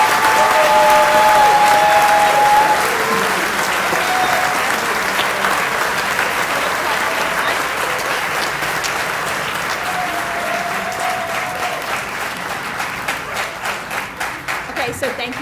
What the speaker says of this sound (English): if we'd like to give a round of applause to our class of